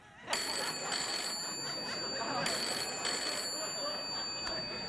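A studio telephone rings on a late-night talk show set, with a sharp onset and a continuous electronic ring that pulses twice, plus faint background noise.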